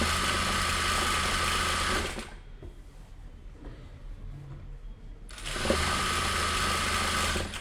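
A sewing machine runs loud and steady along the edge of a kameez seam, pauses for a few seconds with quiet handling noise, then starts stitching again.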